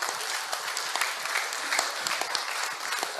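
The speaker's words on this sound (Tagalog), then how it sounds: "Isang palakpak nga para kay Senator Larry Gadon." A crowd applauds a senator at a Philippine political endorsement rally, with dense, steady clapping that carries evenly from start to finish at moderate distance.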